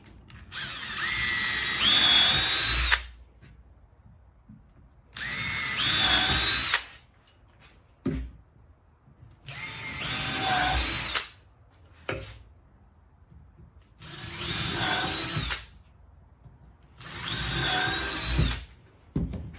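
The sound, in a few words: power drill pre-drilling screw holes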